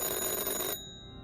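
A telephone rings inside a chocolate factory simulator video game, a bright electronic tone that cuts off abruptly partway through, leaving quiet behind it.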